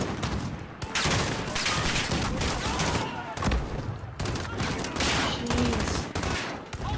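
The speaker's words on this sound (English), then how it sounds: "I forgot that I'm using the sniper" Sniper rifle fire in the Call of Duty: Modern Warfare video game, heard as loud, sharp shots and dense gunfire bursts filling the scene in quick succession.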